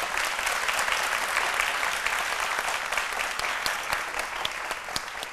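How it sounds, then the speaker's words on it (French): Studio audience applause on a midday TV show, a sustained, fairly soft wash of many hands clapping with a few sharper individual claps standing out, steady throughout. "Est-ce qu'on peut l'applaudir très fort?"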